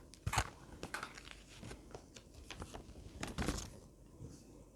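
Paper packaging rustles, crinkles and tears faintly in a quiet room while a Boya BY-LM10 phone lavalier microphone is unboxed, with no talk.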